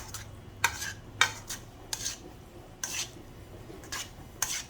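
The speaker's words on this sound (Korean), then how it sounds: "자, 비벼보겠습니다." Cold naengmyeon noodles are mixed with sesame oil in a big basin-sized bowl, with a series of wet clinks and scraping stirs at an irregular rhythm, close and moderately loud over a low murmur.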